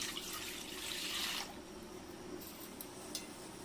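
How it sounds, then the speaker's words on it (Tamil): Water poured into cooked lentils (dal) for boiling drumsticks in a South Indian drumstick sambar, a steady broadband rush for about a second and a half that then fades to a quieter trickle with faint clinks. "இப்போ நம்ம காய் வேகிறதுக்கு தண்ணி ஊற்றிடலாம்."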